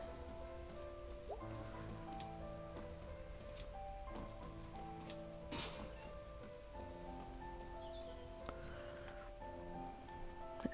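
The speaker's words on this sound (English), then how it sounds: "it is grey and rainy" Steady soft rain falls on a grey, wet day in the Night in the Woods video game, a faint continuous patter beneath gentle melodic game music.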